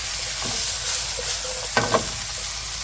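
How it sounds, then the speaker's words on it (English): Broccoli stir-fried with ginger and garlic gives a steady pan sizzle with a few scraping stirs of a utensil near the end, close and alone. "Give them a stir fry for a few minutes"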